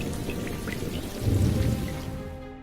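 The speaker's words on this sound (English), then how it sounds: "This happens each and every drop, independent as they fall, but together as the storm falls in unison." Raindrops from a storm fall steadily, a dense patter of many separate drops with a soft swell of heavier rain midway, moderately close and with no voices.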